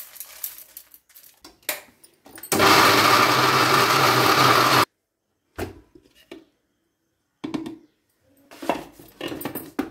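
A mixer grinder whirs loudly for about two seconds as it grinds tomato pickle ingredients, starting and stopping abruptly, with scattered clinks and handling noises in the quiet before and after.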